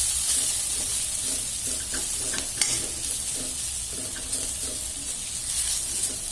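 Bitter gourd fries and sizzles in a pan while being stirred, a steady crackling hiss broken by scraping stirs, with no voices.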